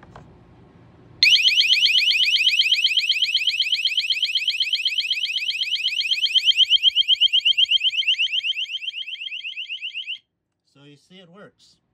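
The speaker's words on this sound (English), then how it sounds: "there's a reset button there to turn off the alarm" A cheap water leak detector, its sensor set in a container of water, sounds a loud piercing electronic alarm of rapid pulsing beeps for about nine seconds before falling silent, with a voice briefly heard before and after.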